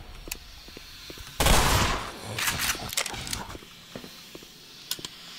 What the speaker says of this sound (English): I'm abusing the shit out of the shotgun.